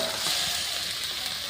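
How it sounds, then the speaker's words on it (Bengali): Desi chicken meat hitting hot spiced oil in a pan gives a steady, loud, close hiss of frying that holds evenly throughout, with no voices. "এবার মাংসটা ঢেলে দেবো।"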